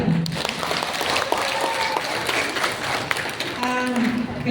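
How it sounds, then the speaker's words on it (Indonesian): Audience clapping at a mosque gathering for the Hijri New Year 1446 celebration, a moderate, steady patter of hands heard alongside overlapping voices and chatter. "Alhamdulillah, tepuk tangan dong."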